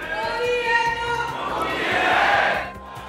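Large Indian diaspora crowd in Paris cheering and chanting slogans for Modi, a loud continuous roar of massed voices with rhythmic clapping, swelling toward the end before fading.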